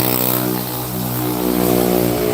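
A moped engine drones loudly and close, a steady buzzing hum that swells slightly as it goes.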